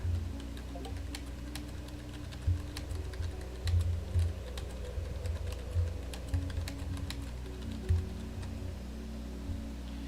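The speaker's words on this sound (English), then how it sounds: "sorry if you hear typing" Typing on a computer keyboard during a live gaming stream, a steady run of light clicking keystrokes with occasional heavier taps over a faint low hum, no talking.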